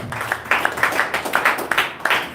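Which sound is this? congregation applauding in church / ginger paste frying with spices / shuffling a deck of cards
congregation applauding in church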